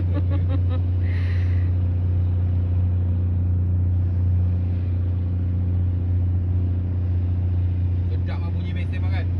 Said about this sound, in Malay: Sedap lah bunyi mesin makan.